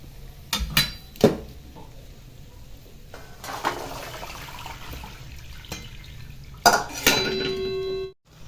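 Soaked green peas drained through a metal colander and tipped into a hot tempering, giving sharp clinks and clatters of metal utensils with a brief trickle of water between them, close by and without talk.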